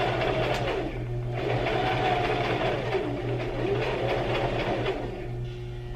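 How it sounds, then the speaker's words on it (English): Sewing machine stitching around the edge of a fabric ferret hammock, running steadily and fairly loud with a continuous motor whir and rapid needle chatter, briefly slowing near the start and again toward the end, with no talking. "And I'm going to just sew all around until we get to the area we were going to leave open."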